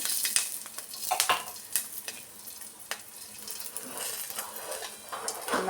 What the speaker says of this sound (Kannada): ಮೆಣಸಿನ್ಕಾಯಿ ಸ್ವಲ್ಪ ಫ್ರೈ ಮಾಡ್ಕೊಳ್ಳೋಣ.